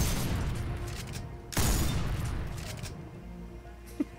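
A piercing arrow sniper weapon fired in Fortnite Save the World, one heavy booming shot mid-clip that decays slowly, with a faint click near the end.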